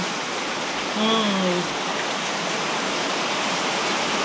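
Dense, steady heavy rain hisses loudly during a typhoon flood in Silang, Cavite, a continuous wash of noise; a voice speaks briefly over it near the start.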